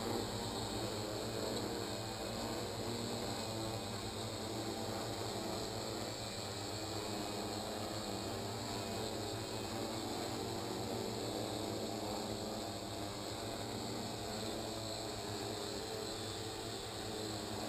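A hovering drone coming down to land, a steady propeller drone and whine that holds at an even, moderate level the whole time, heard outdoors with no talking.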